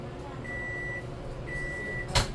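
A microwave oven runs with a steady hum while melting butter, two drawn-out electronic tones sounding one after another, then a brief clunk near the end, all fairly close and without talk.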